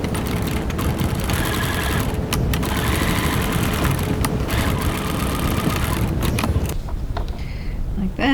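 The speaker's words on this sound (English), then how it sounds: "Our card slot B pieces, top stitch the top of those." Sewing machine top stitching card slot pieces, a steady close mechanical whirr running for several seconds with brief dips in speed, then stopping near the end.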